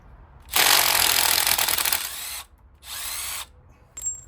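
A power tool with a 5mm Allen socket spins out the brake caliper pins on a Honda TRX500 Foreman ATV during a front brake job: one long loud whirring burst, then a shorter one and a brief final blip, close by, no talk.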